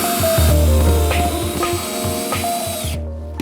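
A power driver whirs in short repeated bursts while driving screws to join boards for a garden raised bed, loud and close, ending in sudden quiet.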